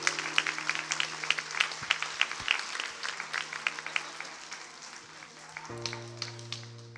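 A church congregation claps steadily in a long round of applause, fairly far off and moderately loud. The clapping thins out toward the end, and a sustained electronic organ chord comes in underneath.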